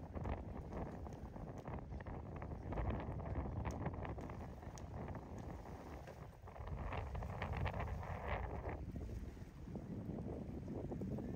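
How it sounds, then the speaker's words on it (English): Strong wind at a lakeside boat launch buffets the microphone in a constant roar, with gusts rising and falling over a steady rush. "it's very windy today"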